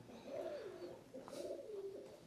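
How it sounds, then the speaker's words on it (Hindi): Pigeons coo in soft, rolling calls, two long throaty phrases in a row, fairly close and clear against a quiet background. "कबूतरों की आवाज़ है ना?"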